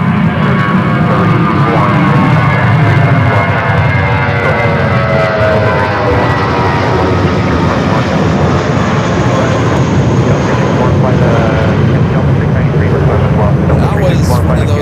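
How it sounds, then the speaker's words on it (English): United Airlines Boeing 777-200ER, a heavy jet arriving from London Heathrow at San Francisco airport, gives a loud, steady broadband engine roar that fills the whole stretch, with a faint voice beneath. "Next arrival is another heavy United Airlines flight 900 coming in from London Heathrow,"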